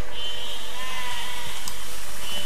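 Sheep bleating inside the physics building game Besiege, a steady drawn-out bleat with a high, thin tone running through the whole short moment, fairly close and unaccompanied by talk.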